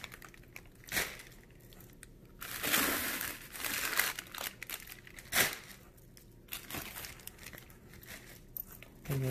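Packing paper from a Crowd Cow meat box crinkles and crumples in irregular bursts, with louder rustling swells amid quieter handling, close up and alone.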